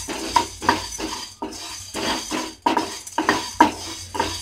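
Coriander seeds and peppercorns dry-roast in a pan over a low flame, heard as a rhythmic series of rattling, scraping stirs roughly every half second, close and clear with no speech.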